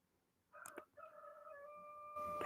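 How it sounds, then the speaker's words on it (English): A rooster crows at a campground on the Western Australian coast, one loud sustained call with harmonic bands rising after a brief squawk, close by and otherwise alone. "How rude is that rooster?"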